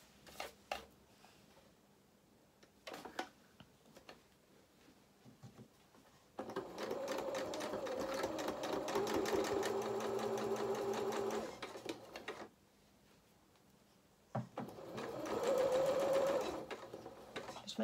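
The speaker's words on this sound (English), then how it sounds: "And then we're going to sew this together with a half a centimetre seam allowance." A sewing machine stitches a half-centimetre seam on a fabric donkey head for a soft toy, running in two loud steady whirring bursts of several seconds each, separated by quieter handling and clicks.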